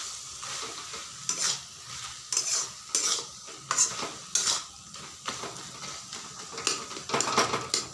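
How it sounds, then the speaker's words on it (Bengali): Taro, cooked for a prawn and taro dish, is mashed in a pan with a metal ladle or spatula. Irregular scraping clatters of utensil on pan repeat throughout, with no talk. "এভাবে করে হাতা বা খুন্তি দিয়ে থেতো করে দিতে হবে, তাহলেই গলে যাবে।"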